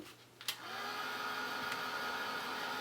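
A hair dryer blows on wet watercolour paint, switching on with a click and settling into a steady, even whoosh that runs unbroken and fairly close.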